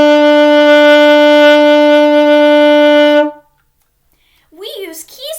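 An assembled alto saxophone sounds one sustained, bright, reedy note for about three seconds, steady and close, then stops; after a pause a voice begins talking.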